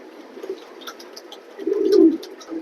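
Pigeons at a pigeon sale give soft, low, throaty coos nearby, with one fuller, rolling coo swelling near the end over a quiet background.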